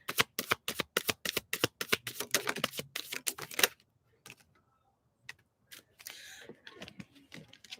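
Tarot cards are shuffled in a rapid run of crisp riffling flicks for a reading, close and clear for about four seconds, followed by quiet handling sounds.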